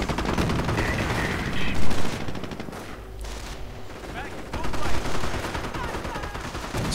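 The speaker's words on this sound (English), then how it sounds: "Sniper fire. Hitting a rifleman here, hitting a rifleman there." Dense gunfire from a Company of Heroes match, with rapid overlapping shots and bursts that swell and fade while a commentator talks over the battle.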